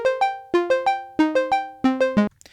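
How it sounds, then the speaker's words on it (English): A stabby synth patch made with Ableton Wavetable plays short, plucky chord hits in quick rhythmic groups that decay rapidly, with a descending pattern of stabs, loud and alone. "I've just got kind of like a stabby kind of sound made with wavetable. Sounds like this."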